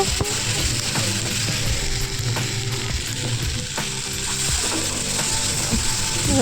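Steady sizzling of paneer gravy frying in a pan, with scattered scraping and clinking as it is stirred, close and constant throughout.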